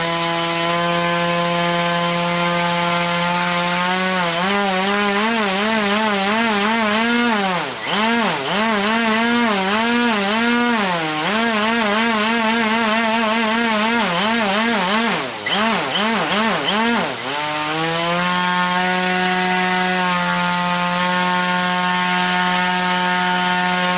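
An RCTimer HP4215 460 kV brushless motor on an RCTimer HVSK 40A ESC whines loudly and steadily under throttle, its pitch wobbling and surging through repeated throttle changes before settling back to a constant hum.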